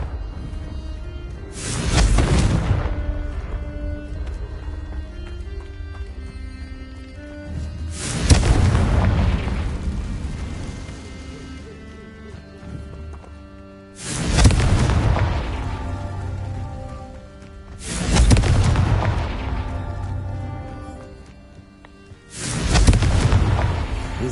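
Five heavy Confringo explosion spells blast in turn in Hogwarts Legacy, each a loud booming burst with a rumbling decay, spaced several seconds apart.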